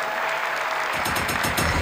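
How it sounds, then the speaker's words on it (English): Clapping at a live comedy show in a Lagos hotel hall, a dense wash of applause that swells and grows louder partway through. "I'm gonna clap now."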